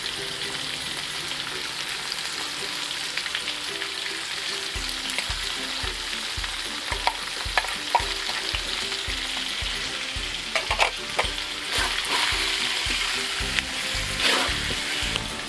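Ingredients for kambar banang, a Tapin regional dish, fry in a pan with a constant loud sizzle, while a spatula scrapes and stirs in steady repeated strokes.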